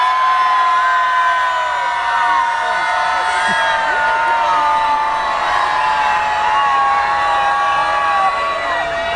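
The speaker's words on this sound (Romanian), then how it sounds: "Sunt curios dacă voi puteți să țipați cât timp eu beau apă." Concert crowd in Bucharest screams and cheers continuously and loudly, a dense sustained roar of many voices with whoops rising above it for the full stretch while the performer drinks water.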